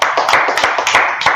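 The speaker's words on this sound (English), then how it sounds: "Let's clap it up for the brotherhood in the system." An audience claps for the brotherhood at a Tuesday Brotherhood class, with a run of moderately loud, irregular hand claps spread across the moment.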